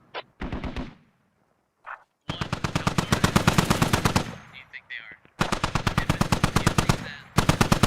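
Long, rapid bursts of machine gun fire from emplaced MGs in a squad-based military video game, loud and close, with short pauses between sustained volleys and a brief gap of near silence early on.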